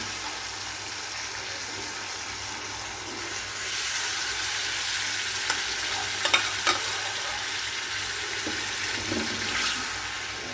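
Water lily stems and prawns are stir-fried in a pan, giving a steady sizzle with scraping stirs and a few sharp clicks of the utensil, loud and close.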